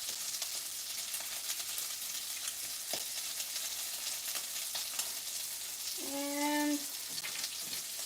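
Shrimp fry in hot oil with a steady, fairly quiet crackling sizzle, and a brief voice and a short clink come through near the end.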